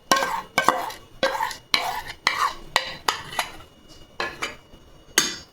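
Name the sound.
mixing batter of flour and banana paste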